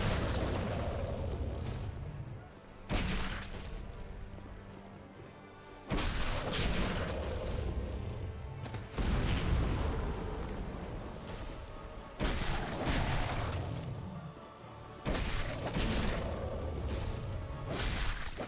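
A boss's fire breath attack in the video game Dark Souls 2: a string of loud, rumbling roaring blasts repeats roughly every three seconds, with no voices.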